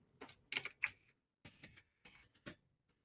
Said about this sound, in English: So in the images, I'm just going to type in scissors.